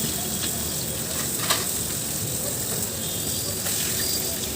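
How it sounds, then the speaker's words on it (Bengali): Fish sizzles steadily in hot oil in an iron wok, a dense, even crackle that holds at close range throughout with a few faint clicks on top. "লোহার কড়াইয়ে মাছ ভাজা কি দারুণ না হয় সত্যি"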